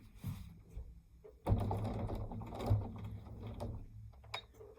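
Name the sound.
domestic sewing machine back stitching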